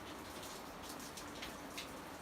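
Steady rain falls close by near a mountain refuge in the Ariège, a dense even patter of drops with no voices.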